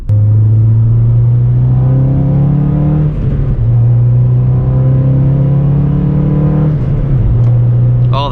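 A 9th gen Honda Civic Si engine revs hard on a night pull toward about 6,700 RPM, loud and close, climbing through two long rising sweeps with a brief dip between shifts and a third climb at the end.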